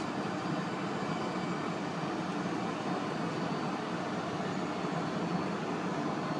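A steady, even roar of a Boeing 737 engine in a flight simulator game drones without change throughout, broadband and constant with no voices.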